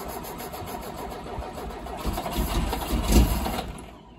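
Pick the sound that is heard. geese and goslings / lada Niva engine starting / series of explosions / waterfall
lada Niva engine starting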